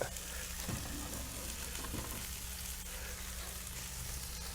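Onions and celery frying in a pan give a steady, quiet crackling sizzle that persists evenly throughout, with a couple of soft stirring bumps and no voices.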